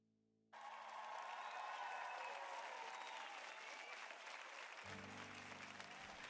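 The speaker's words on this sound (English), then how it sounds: "Let's give them a round of applause." An audience at a tabletop role-playing homebrew challenge breaks into sustained applause that starts abruptly and carries on steadily as a dense, even clatter of clapping hands.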